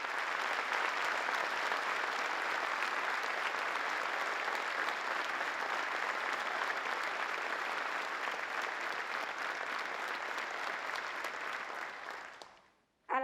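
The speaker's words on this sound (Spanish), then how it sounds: "les solicito un fuerte aplauso para ellos" Sustained, dense applause from a large audience in a party congress plenary hall, steady and loud for about twelve seconds before fading out abruptly at the end.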